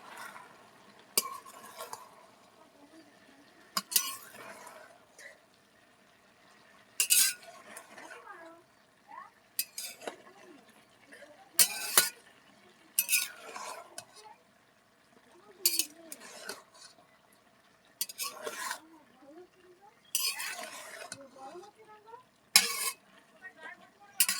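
Malabar spinach stir-fried with thinly cut potatoes in a pan, with intermittent bursts of spatula scraping and stirring over a quiet, faint sizzle.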